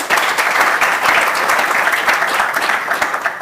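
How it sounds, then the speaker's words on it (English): An audience at a surgery resident research day gives a warm round of applause for the presenters, dense and sustained clapping from many people that stays loud and even throughout. "a round of applause for everyone who presented is well warranted and earned"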